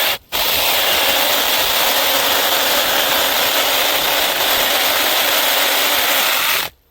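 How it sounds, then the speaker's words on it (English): A DEKOPRO 6-inch cordless mini electric chainsaw cuts through a tree about 6 inches thick, giving a loud, steady whirring buzz with a rough grinding edge that runs almost the whole time and stops abruptly at both ends. "I can bog it down a little bit by putting a little bit too much force on it."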